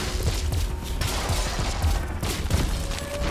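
Rapid turret gunfire in a video game where humans wield aliens as weapons, sustained bursts of loud overlapping shots and impacts filling the whole stretch with no speech over them.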